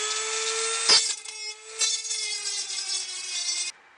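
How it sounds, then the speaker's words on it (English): A Dremel rotary tool grinds the sharp edges of cut metal on a homemade wood burning stove, giving a steady high whine that dips briefly twice, then cuts off near the end. "I'm going to take my Dremel tool and I'm just going to clean up any of the sharp edges here"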